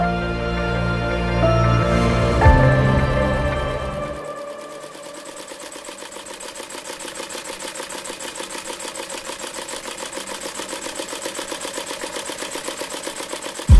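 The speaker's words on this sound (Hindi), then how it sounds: "घर की पुरानी सिलाई मशीन से" An old household sewing machine starts up and runs with a rapid, even mechanical clatter of the needle, close and steady, after a few seconds of louder muddled sound and knocks at the beginning.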